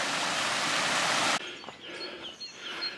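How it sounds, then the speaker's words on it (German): Babbling brook beside a hiking trail, a loud, dense rush of flowing water for over a second, then a sudden drop to quieter outdoor ambience with faint birdsong. "Welch ein schöner Bach."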